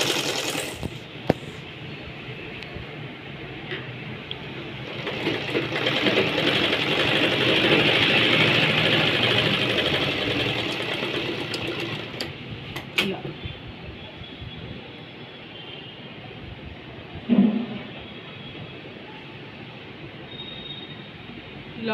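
A sewing machine stitches a boxed dabba neck design, its motor running in a continuous rattling hum that swells and fades, with clicks and thumps between runs and a voice talking over parts of it.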